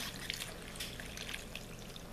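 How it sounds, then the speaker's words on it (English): Chicken stock is poured into a crock pot, a steady close liquid trickle with soft splashy texture and no talk over it. "we're going to pour enough chicken stock to fill"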